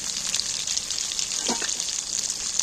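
Potatoes fry in hot oil in a pan, giving a steady, bright, loud sizzle that runs unbroken throughout, with a short lower gurgle partway through.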